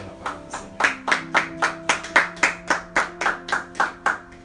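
A church congregation applauds together, about fifteen sharp, even hand-clap bursts in a steady rhythm, close and fairly loud, over a low sustained organ or keyboard chord, with no talking.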